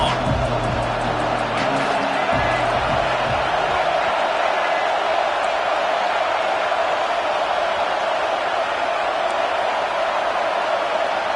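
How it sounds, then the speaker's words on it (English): A home crowd roars loudly and without a break during a college football video game between Illinois and Nebraska, a dense wall of cheering with a commentator's voice briefly over it at the start. "how nice is it to have the home crowd going absolutely bananas?"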